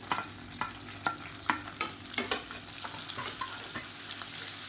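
Beetroot sautéing in a pan with slit green chilies and sliced onion, a soft steady sizzle broken by light spatula taps and scrapes, close and fairly quiet.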